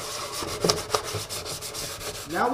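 Sanding a painted iPad dash panel by hand with 220 grit sandpaper: steady close scratchy rubbing strokes throughout, with a couple of sharper scrapes midway and a brief tonal squeak near the end.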